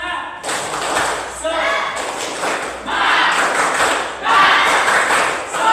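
A classroom group performing the rhythmic 'tepuk semangat' clap chant, bursts of clapping and thumping with shouted chant voices, loud and close, in repeated waves.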